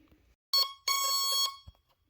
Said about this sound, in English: it's just making a bunch of random beeps